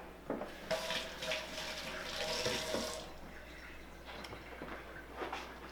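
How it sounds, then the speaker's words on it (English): A kitchen faucet runs as hands are rinsed during preparation of a baby back porchetta pork roast, giving a faint, uneven splash with soft bursts of water and small clattering sounds. "I'll rinse my hands here."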